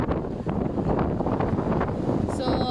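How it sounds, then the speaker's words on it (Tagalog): Strong outdoor wind buffets the microphone, producing a constant loud, low rumbling roar with fluttering gusts throughout the short stretch. "Kahit saang spot mahangin."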